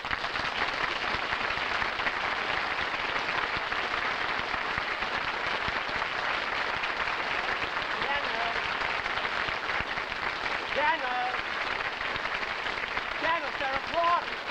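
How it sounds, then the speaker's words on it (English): Studio audience applause on a 1955 television comedy show, a steady, even wash of clapping that carries on for many seconds, slightly distant, with faint voices surfacing near the end. "they're applauding."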